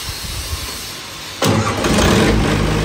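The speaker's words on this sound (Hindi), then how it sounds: "हाँ, चल में जनरेटर स्टार्ट हो चुका है दोस्तों, देख सकते हैं आप बिल्कुल एक आवाज में इंजन चल रहा है" A 20 kVA Ashok Leyland diesel generator cranks quietly, then fires abruptly and settles into a loud, steady running drone close by.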